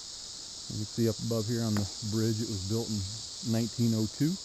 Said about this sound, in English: Hear the cicadas in the background.